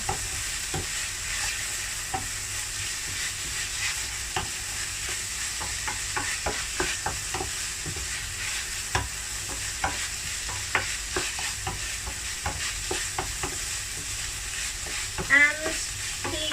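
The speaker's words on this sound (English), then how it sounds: "Sugar. There we go. Stir it together." Omelette filling with soy sauce and sugar fries in a hot pan, a soft steady sizzle broken by frequent light scrapes and taps of a spatula as it is stirred, near and unvoiced.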